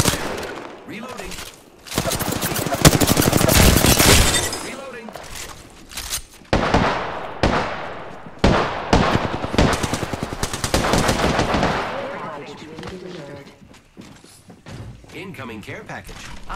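R-301 rifle and Peacekeeper shotgun fire in Apex Legends: loud automatic bursts and heavy single blasts come in separate volleys with short gaps, mixed with mechanical reload clicks and occasional talk.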